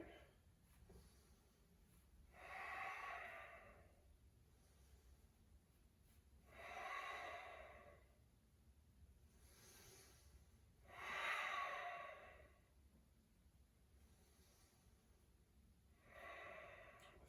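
Slow, deep breathing during a yoga tree pose, with about four soft, airy breaths spaced roughly four seconds apart over a faint, quiet background.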